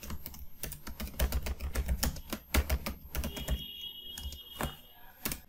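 Fast, uneven keystrokes on a computer keyboard as Hindi text is typed, close and clear, with a steady clatter of clicks and occasional heavier key hits, no voices.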